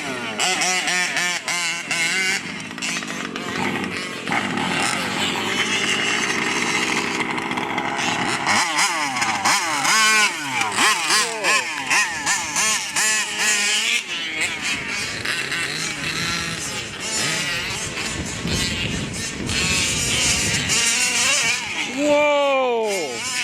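A Losi 5T RC car with a twin 70cc gas engine ripping across a field, its high-pitched two-stroke whine rising and falling loudly as it revs and accelerates, with people talking over it.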